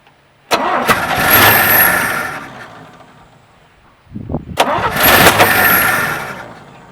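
A 1967 Chevy C10 pickup, parked for 23 years, cranks and catches twice with a sharp bang at each start, the engine roaring briefly then fading, close and loud, with a faint voice between attempts.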